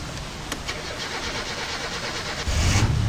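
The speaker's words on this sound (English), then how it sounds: "Give it some gas while you're holding the ignition and some gas." A car engine in the game My Summer Car cranks and then fires, growing louder as it starts near the end, with no talking.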